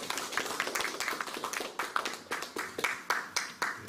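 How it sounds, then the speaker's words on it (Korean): A small audience at an academic seminar at a cultural center claps for a guest from Seoul, with distinct, fairly close handclaps in an uneven rhythm rather than a dense roar. "더 큰 박수로 함께해주시죠"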